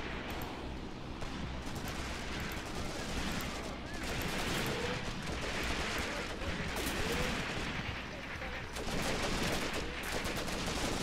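Gunfire and artillery in a WWII strategy game set on the Mius Front, German defense: a dense, continuous barrage of rattling shots and booming blasts, loud and unbroken throughout.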